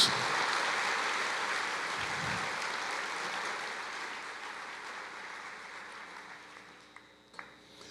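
A church congregation applauds together in a sustained, dense wash of clapping that slowly fades toward the end, with a couple of sharp isolated knocks in the final second.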